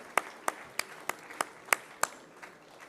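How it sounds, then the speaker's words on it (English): A few slow, separate hand claps ring out at a university event for an election-awareness portal launch, about seven sharp strikes spaced roughly evenly, fairly distant and thin rather than a full ovation. "Can we have another huge round of applause, please?"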